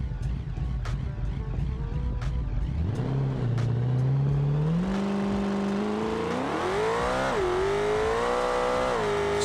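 Engine of a Moonhawk kit car, Frank 2.0, in a racing video game: a low idle that climbs into a rising, revving whine as it accelerates and shifts up through gears, loud and close with no talking.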